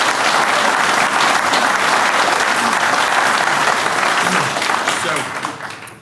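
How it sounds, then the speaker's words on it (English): Broad, dense applause from an audience at the Mage Titans 2015 event introduction, steady and full for most of the span before tapering off near the end. "I just think they deserve a round of applause to begin with."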